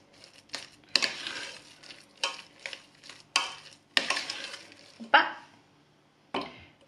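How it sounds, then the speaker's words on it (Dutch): Huzarensalade gets stirred in a pan: a series of wet, scraping, squelching strokes in uneven bursts, close and fairly loud with quiet gaps between. "Roeren we even goed door, want dit zorgt natuurlijk voor de smeuïgheid van de salade."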